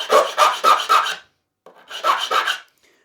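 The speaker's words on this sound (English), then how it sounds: "Got to get out my trusty file, my calico." A calico file rasps across a guitar body in quick rhythmic strokes, four close scraping passes, a short pause, then three more, with no voices.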